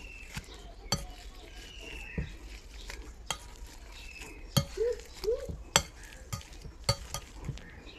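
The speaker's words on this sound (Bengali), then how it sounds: "ভালো করে ম্যাশ করে নিয়ে নিচ্ছি।" Two potatoes are mashed for pani puri (fuchka), giving scattered sharp clicks, taps and soft scraping against the bowl. The sounds are quiet and irregular, with brief pauses between strokes.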